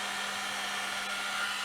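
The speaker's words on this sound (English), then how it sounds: "I'm going to use the heater just real lightly, just enough to start it." Heat gun used as a paint stripper, warming soft masking tape, blowing hot air in a steady, even, close-up whoosh with a constant hum underneath.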